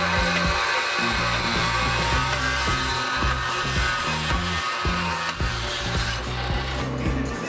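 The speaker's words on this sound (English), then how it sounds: "we'll just cut it off with the bandsaw" A bandsaw cuts through the derailleur post of a Catrike Road AR recumbent trike, giving a steady, close, loud rasping grind that runs unbroken throughout with no voices.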